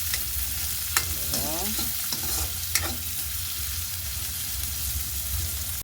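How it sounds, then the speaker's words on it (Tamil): Chopped onions sizzle with ginger and garlic in a hot pan, a steady fry under repeated scraping stirs and a few sharp clinks of the utensil against the pan. "இனி நாங்கள் வெட்டி வச்சிருக்கிற வெங்காயத்தையும் இதோட சேர்த்துக்கொள்ளுவோம்"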